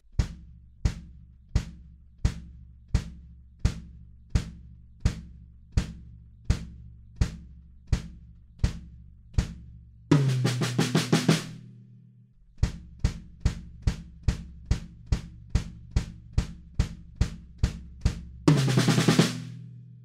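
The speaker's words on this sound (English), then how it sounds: "we're just playing 4 on the floor on the kick drums" Steady four-on-the-floor kick drum thumps evenly on every beat, loud and dry, with two brief bursts of noisy cymbal wash breaking the pattern.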